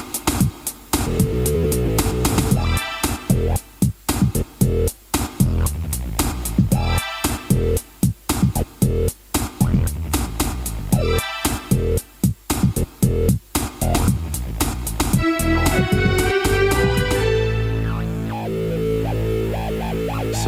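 A Yamaha DJX keyboard plays a rhythmic pattern through heavy, crunchy distortion, with choppy stabs and gaps, ending in sustained distorted tones.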